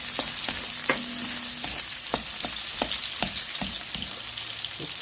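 Garlic and onion sizzle steadily in a hot pan for orange chicken, with a constant frying hiss broken by repeated light knocks and scrapes of a utensil stirring.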